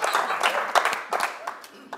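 Applause from a small group of people, a few seconds of scattered clapping with uneven bursts, heard alone at moderate volume.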